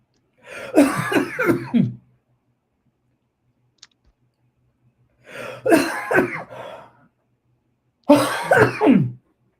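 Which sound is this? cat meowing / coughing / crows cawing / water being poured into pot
coughing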